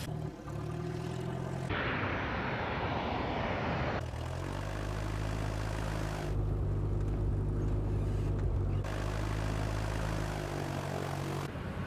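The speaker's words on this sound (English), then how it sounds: "We've got a lot of airplane taxiing out." Steady loud drone of aircraft engines at close range, with propeller hum shifting in tone as the planes move on the ground.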